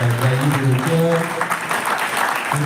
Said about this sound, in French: Je n'ai pas senti les applaudissements.